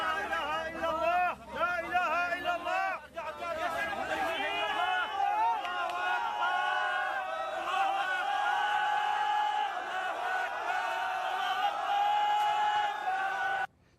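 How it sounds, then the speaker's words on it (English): A large crowd cheers, whoops and shouts continuously as a child is pulled alive from earthquake rubble, a dense, loud roar of voices that rises and falls and stays steady to the end. "met by a cheering crowd."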